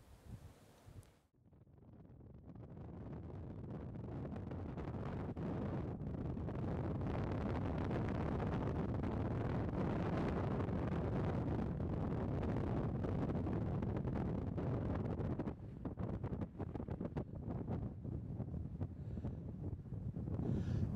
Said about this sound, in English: Standing on top of a sand dune and being peppered around by sand grains. You can see how they're blowing here.